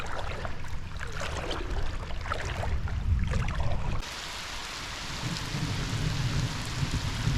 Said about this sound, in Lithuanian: Ir jau dunksi vis labiau